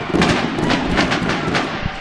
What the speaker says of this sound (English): And the fireworks explode over Baum Stadium as the Hogs win a pitcher's duel 2-1.